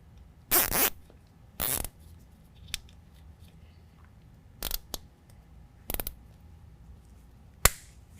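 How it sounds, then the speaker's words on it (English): A zip tie ratchets tight during a Fabtech 6-inch coilover lift install on a 2019 GMC Sierra 1500, giving five sharp, close zipping bursts spread out with quiet pauses between them. "Now we're going to go ahead and zip tie this out of the way,"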